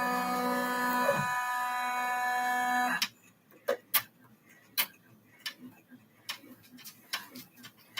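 An embroidery machine stitches the front of a fabric bag. A steady machine hum runs for about three seconds, then stops, and irregular close ticking and clicking follows.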